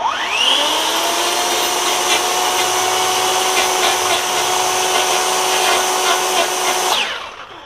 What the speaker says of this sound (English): if we take this guy and do some gouging